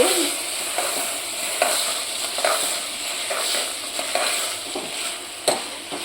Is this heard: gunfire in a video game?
no